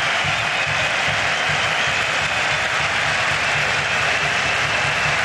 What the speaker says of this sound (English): Now many are applauding the quality of this Armenian side on the counter-attack.